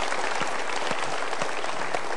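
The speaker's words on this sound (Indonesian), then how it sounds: "kita berikan tepuk tangan untuk semangatnya." A studio audience at an Indonesian motivational talk show claps loudly, steady dense applause filling the short moment alone.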